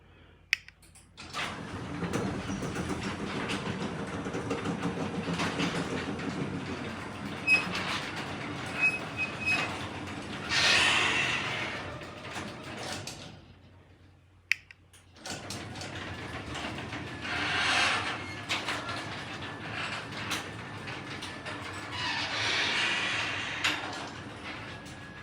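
A B2215 door mechanism runs the far door, giving a long mechanical whirring and rumbling with squealing peaks, a sharp clunk and brief pause midway, then a second run of whirring.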